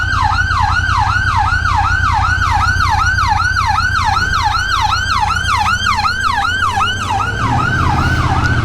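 A loud, close ambulance siren wailing in a rapid, repeating up-and-down cycle over a steady low engine rumble.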